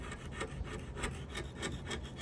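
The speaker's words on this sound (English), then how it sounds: "the stain is literally just peeling off with a scraper" A scraper working old, peeling stain off an antique wooden buffet, giving a close, loud rasping scrape in steady rhythmic strokes, roughly four per second, with no talking.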